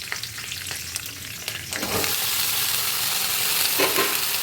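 Bhujiya of leftover vegetables hits hot oil and a loud, steady sizzle takes over, with occasional stirring scrapes; no talking.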